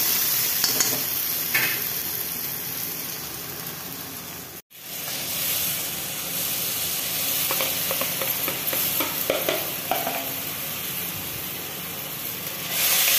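Tomatoes fry in spiced oil for a U.P.-style aloo parwal curry, making a dense, continuous sizzle with stirring scrapes and a brief drop to near silence partway through.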